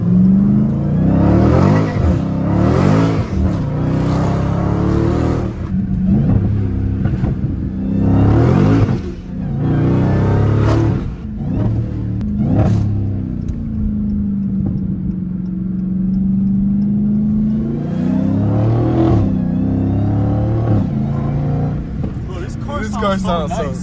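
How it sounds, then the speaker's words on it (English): A Dodge Challenger Demon Hellcat's exhaust revs and rumbles in bursts, loud and close, with the supercharger whine underneath as people talk over it inside the car. "like the sound of the exhaust take over the whine, but it's like a good exhaust sound"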